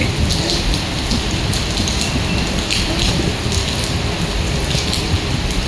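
Summer rain falling in Dubai, a dense, steady hiss of drops pattering on surfaces close by, unbroken for several seconds with no voices.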